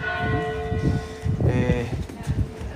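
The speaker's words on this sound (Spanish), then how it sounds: "Las campanas, Rodrigo, las campanas" The Berenguela bell of Santiago cathedral rings the quarter, its sustained metallic tone hanging over the square beneath steady nearby conversation and crowd bustle.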